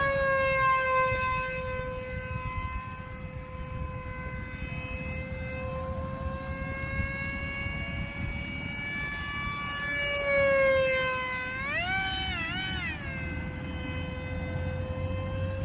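A small REDCON electric motor on an RC F-117 model airplane whines steadily at a high pitch, rising and wavering briefly near the end, with no voices.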